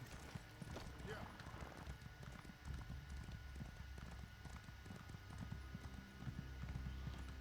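Horse hooves clip-clop in a steady rhythm in a Dragon Knight role-playing video game, quiet and continuous beneath low background game sound.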